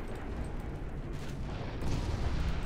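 Heavy naval explosions as torpedoes strike an enemy cruiser in the Ultimate Admiral Dreadnoughts naval warfare game: a dense, rumbling roar that swells louder near the end, with no voices.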